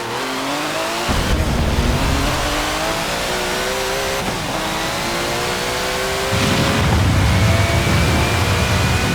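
A race car engine in Forza 7 revs hard, its pitch climbing in repeated surges broken by gear changes, loud and close with no talking.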